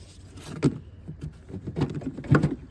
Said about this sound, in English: we're gonna pull the airbox from this little grommet down here